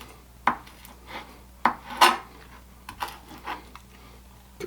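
Knife chopping fresh dill on a cutting board: a few sharp, irregular chops and scraping strokes, close and moderately loud, with no talking.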